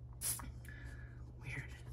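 A Bath and Body Works fall fragrance mist with black plum, suede, saffron and haunted woods notes gives one short, sharp spray hiss near the start, followed by quiet breathy sounds and soft talk.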